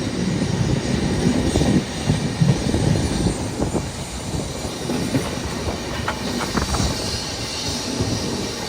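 An old coach of the Vivek Express, its oldest, rumbles along with dense rolling noise and scattered wheel clicks, close and steady across the whole stretch, with no voices.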